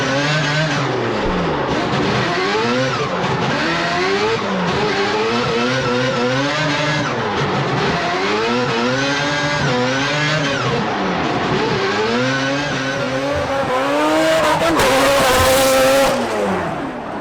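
A loud race-tuned Toyota Supra engine with straight-cut gears revs hard in repeated rising and falling sweeps, with a whining gear sound, ending in a sharp burst near the end.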